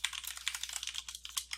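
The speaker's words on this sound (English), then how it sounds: "Let me go ahead and type that in here very quickly" Quick, light tapping on a computer keyboard, a brisk irregular run of close keystrokes, fairly quiet and heard alone.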